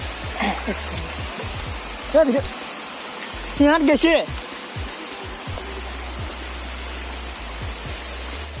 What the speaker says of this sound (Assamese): এতিয়া বৰষুণ ভিজি ভিডিঅ' কৰি আছোঁ ইয়াত মানে খুব বৰষুণ